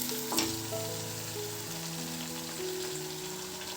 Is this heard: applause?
no